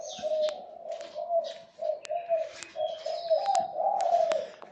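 Doves kept for sale coo in repeated soft, tonal phrases close by, with scattered sharper chirps from other birds mixed in over about five seconds.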